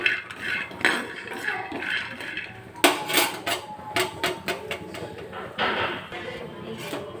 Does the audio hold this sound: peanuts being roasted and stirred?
yes